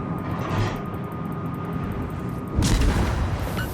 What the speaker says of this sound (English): We are using high explosive shells.